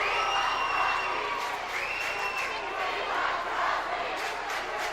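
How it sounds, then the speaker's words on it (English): Basketball fans cheer loudly inside an arena at a Holy Cross versus Sacred Heart college game, a dense, sustained roar of crowd voices with rising whoops lasting throughout. "As the fans cheer,"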